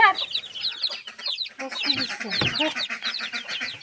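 Broiler chickens on a village farm cluck and chatter in a dense, continuous chorus close by, with occasional voices mixed into the flock noise.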